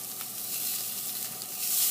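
Skirt steak sears on a very hot grill with a continuous, bright hiss of sizzling meat. The sizzle holds steady and close throughout, with no voices.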